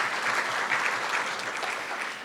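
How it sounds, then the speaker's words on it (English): A short, even burst of audience clapping fills a Bellingham City Club talk on measles and fades slightly after about two seconds. "I think you should applaud at this point."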